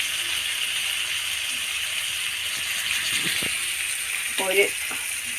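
Fish, a small karal rather than pearl spot, fries in a pan with a steady, close sizzle and crackle that runs the whole time, broken near the end by a few light metallic clinks.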